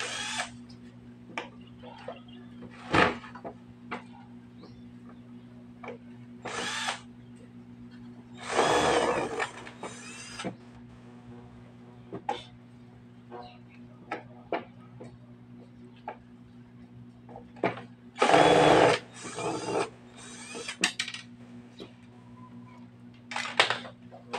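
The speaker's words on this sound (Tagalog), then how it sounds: "Gagamit na lang ako ng cordless screwdriver" A cordless screwdriver backs screws out of a built-in speaker during repair, giving several short whirring bursts separated by quiet gaps filled with small ticks and handling clicks.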